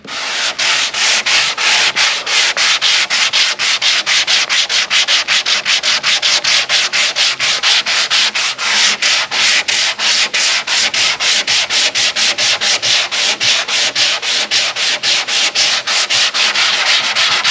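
Hand sanding of fiberglass repair filler during fairing, worked in long straight strokes: a loud, close, steady rhythmic rasp of paper across the surface, repeating without pause and with no voices.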